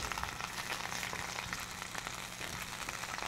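Onions sizzling in a hot pan, a continuous soft crackle and hiss with faint popping throughout, close and steady with no voices.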